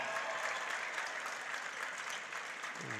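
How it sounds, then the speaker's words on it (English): Crowd at the Watertown Civic Arena applauds steadily during a boys basketball game, a sustained ovation of dense clapping filling the space without a break. "Got a little bit of ovation from the Watertown crowd here at the Civic Arena"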